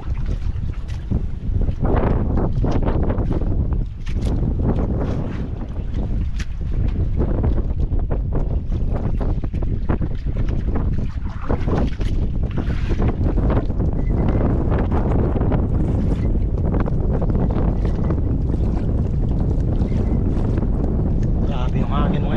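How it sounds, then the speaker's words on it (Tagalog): Strong wind roars and buffets the microphone continuously, loud and rough, with water and boat noise beneath, on a fishing boat. "Grabe yung hangin mga Idol."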